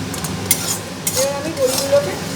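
Lentil dumplings (dal bori) fry in a little oil in a pan, a soft sizzle under several clinks and scrapes of a spatula stirring against the pan.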